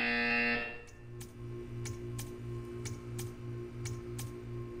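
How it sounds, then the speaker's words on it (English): A buzzer from the game Portal 2 sounds in a steady run of short, evenly spaced pulses over a low electronic hum, after a brief louder tone at the start, with no talking. "You will hear a buzzer. When you hear the buzzer, stare at the art."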